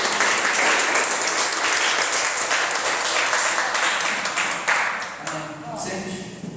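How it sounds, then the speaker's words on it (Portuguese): A church congregation applauds together in a sustained, dense burst of clapping that fills the room, gradually thinning toward the end as a few voices come through underneath. "Vamos aplaudir a Deus?"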